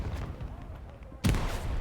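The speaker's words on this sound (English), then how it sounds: "Grenades." A single heavy grenade blast in the WWII shooter Hell Let Loose bursts loud and close partway through, after a stretch of low, rumbling battle ambience, and its boom trails into dense noise.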